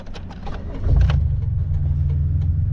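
A car engine cranks and catches about a second in, then settles into a steady low idle rumble, close and loud, with no voices.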